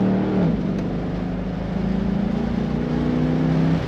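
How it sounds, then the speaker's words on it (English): 2003 Chevrolet Corvette 50th Anniversary Convertible exhaust rumbling steadily while driving, with a low droning tone that rises slightly as the throttle opens, continuous and fairly loud. "Just the right amount of rumble coming from the tailpipe, and when you get on the throttle you hear it a little bit more"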